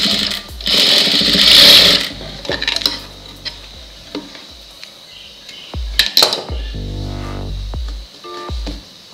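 Sewing machine stitching a blouse, a close, loud whirring run of rapid stitches at the start, then quieter short bursts and clicks of fabric handling.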